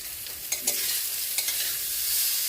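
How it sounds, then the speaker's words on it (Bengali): Sweet pumpkin slices fry in oil on a gas stove, giving a steady, bright sizzling hiss broken by a few soft utensil clicks and scrapes, close and continuous, with no voices. "গ্যাসের মধ্যে এদিকে যে মিষ্টি কুমড়াগুলো ভাজা করছি"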